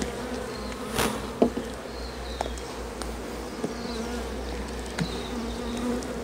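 Steady buzzing of many honeybees at an open hive as bees are shaken off a frame during queen rearing, with a low hum, a few individual bees whining past close by, and occasional soft knocks.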